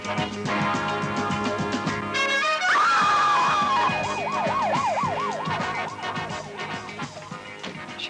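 Ambulance siren in a film scene wails in rising and falling sweeps over a background of music, loud and close, then continuing in rapid warbling cycles as it carries on.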